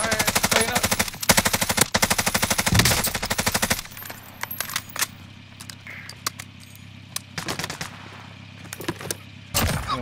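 A heavy automatic gun fires in a video game, bursts of rapid, loud shots in the opening seconds, then scattered single cracks and clicks, with another burst of fire near the end.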